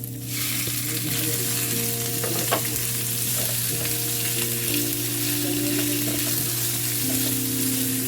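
Pork frying in a pan for adobong Baguio beans, with a dense continuous sizzle and occasional stirring scrapes, loud and close with no talk.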